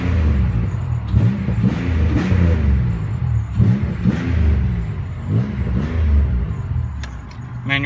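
A 2002 Oldsmobile Alero with a 3.4-liter V6 runs close by, its engine rising and falling through several revs over a steady idle, with no talk over it.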